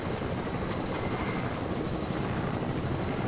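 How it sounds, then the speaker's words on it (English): Helicopter in the Fortnite video game, a continuous close rotor and engine roar with dense rhythmic chopping, steady and loud, no talking. "Let's take your helicopter."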